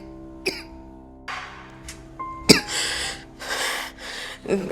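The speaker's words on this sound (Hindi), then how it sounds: "ये अचानक तुम्हें खांसी क्यों हो गई?" Several harsh coughs with throat-clearing sounds, close up, separated by short pauses, then a brief raspy breath.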